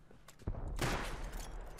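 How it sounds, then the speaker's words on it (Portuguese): Gunfire in the survival video game Rust: a loud burst of shots breaks out and runs on as a dense, rumbling volley. "Tô tomando tiro, Bacon"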